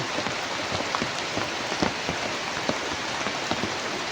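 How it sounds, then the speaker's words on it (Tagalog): Heavy rain pours steadily, a dense, loud hiss with scattered drops pattering on nearby surfaces. "kusog king ulan dyan"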